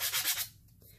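A piece of sandpaper rubs across a Santorini marble stone in a quick, quiet burst of gritty strokes that fades into a softer scrape.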